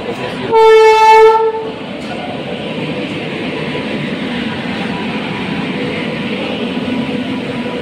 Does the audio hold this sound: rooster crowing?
no